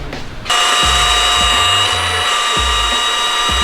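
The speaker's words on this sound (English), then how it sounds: "So Spoon's gonna give those a quick buff, make them look new again because they're a little dingy" A power buffer spins up and whines steadily while polishing dingy factory headlights on an FC RX7 bumper, loud and close with faint low knocks underneath.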